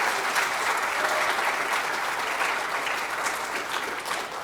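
Audience applause at a church youth awards event, honoring young people who memorized Scripture, steady, even clapping from a seated crowd, moderately distant and sustained throughout without speech.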